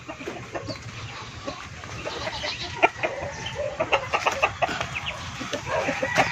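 A Texas gamefowl hen sits brooding on eggs in a farm coop and gives low, scattered clucks and soft murmuring calls, fairly close, with light background rustling.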